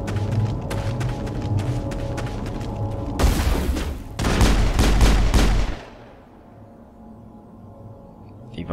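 Bursts of gunfire from the player's weapon in the PC game Mass Effect 1: rapid repeated shots, then a louder heavy volley around the middle, fading into a quiet low hum.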